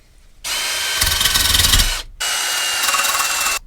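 Abrasive power tool scouring the metal surface of a Harley-Davidson motorcycle in preparation for welding, two loud, harsh, continuous bursts with a short pause between them, close and alone.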